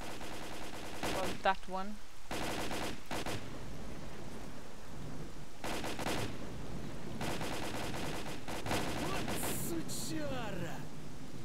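Gunfire in the video game Pripyat: repeated loud bursts of shots in several clusters over a constant rumbling background, with someone speaking briefly between them.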